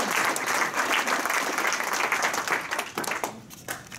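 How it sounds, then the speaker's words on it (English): An audience at a Rotary Club meeting gives a warm round of applause, dense and steady clapping from many hands close by, holding for the whole stretch before beginning to thin near the end. "Let's give them a warm round of applause."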